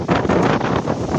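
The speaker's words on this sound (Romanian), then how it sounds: "Și eu cu vântul ăsta așa." Strong wind buffets a microphone during an outdoor bike ride on a dusty path, a dense, gusty rush filling the short stretch with no speech.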